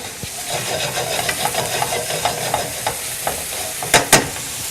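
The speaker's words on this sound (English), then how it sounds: "we're just going to take our prosciutto ham, and we're just going to go right in here to the skillet." Prosciutto ham sizzles in a skillet, a steady crackling fry with rhythmic stirring scrapes and two sharper clatters near the end, close and without talk.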